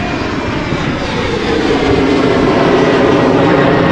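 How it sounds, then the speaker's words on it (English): A German Airways Embraer jet passes near Amsterdam Schiphol Airport with a loud, broad engine roar that swells steadily and stays strong throughout, no voices heard. "As a German Airways Embraer passes by"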